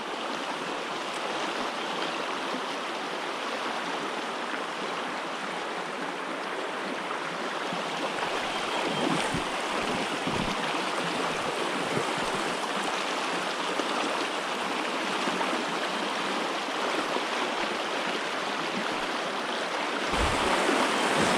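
A river flows steadily into a trout fishing spot, a continuous broadband rush of water heard close and loud throughout with no talk.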